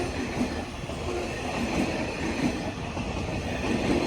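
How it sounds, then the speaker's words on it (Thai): A QSY 5201 diesel locomotive hauls a special express train past at close range, giving a steady, fairly quiet rumble of rolling wheels and carriages with faint rail clatter throughout. "โอ้เสียงเงียบมากเลยครับเสียงเครื่องยนต์"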